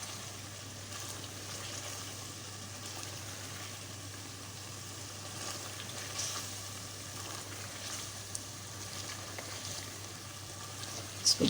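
Meat and turnip curry (shaljam gosht) fries in a pot, giving a steady, even sizzle and hiss that continues without a break, with no talking.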